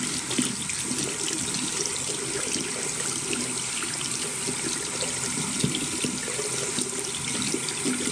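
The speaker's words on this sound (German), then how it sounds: "Und dann spült ihr das Ganze mit Wasser ab." A dental splint rinsed under a running tap into a sink, a steady continuous splash and hiss of water held at an even level throughout, close and unbroken, with no speech.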